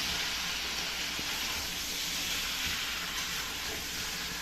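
Chicken browning with spices in a hot pan for a home-cooked Sunday meal, a steady close sizzle and hiss running unbroken throughout with no voices.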